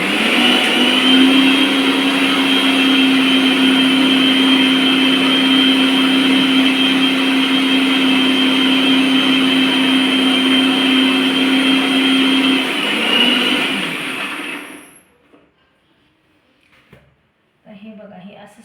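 A mixer grinder blends raw mango chutney with a loud, steady motor whine that runs unbroken for about fourteen seconds, then winds down and stops, leaving near silence and a few faint handling sounds.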